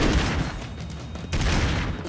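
Rapid gunfire and explosive bursts from the side-scrolling action game Broforce, loud and dense throughout, with a brief dip in the middle before the barrage resumes.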